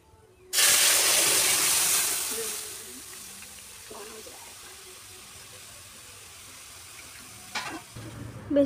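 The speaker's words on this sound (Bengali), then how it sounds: "ডালটা কিন্তু বেশ ভালোভাবেই স্বাদ লেগেছে বলুন, কি সুন্দর ছ্যা করে শব্দ হলো" Dal poured into hot oil for tempering bursts into a loud close sizzle that fades over a couple of seconds into a low simmer, followed by a few light clatters near the end.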